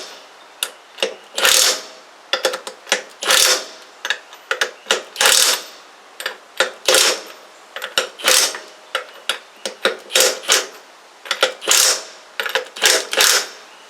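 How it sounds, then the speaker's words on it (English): Lug nuts on a landscaping trailer wheel being tightened with a wrench, heard as repeated bursts of close, loud mechanical ratcheting clicks separated by short pauses. "And then we're going to torque them with a torque wrench."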